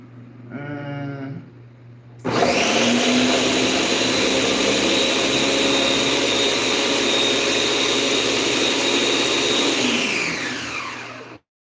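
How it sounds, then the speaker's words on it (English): A kitchen blender kicks on after a brief voice, whirring loudly and steadily at high speed for about eight seconds before winding down and stopping. "Blender. It may not do such a good job, but we are going to try."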